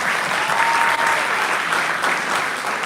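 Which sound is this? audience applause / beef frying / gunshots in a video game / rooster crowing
audience applause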